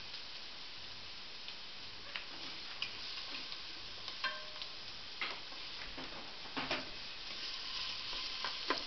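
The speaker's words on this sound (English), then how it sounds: "You're just supposed to caramelize the ingredients." Ingredients for miso soup caramelizing in a very hot pot, a constant low sizzle with faint scattered ticks and clicks from stirring.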